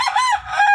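A rooster, a chicken in a coop, crows once, loud and close, a single drawn-out harsh call that rises and falls over less than a second, with no talk.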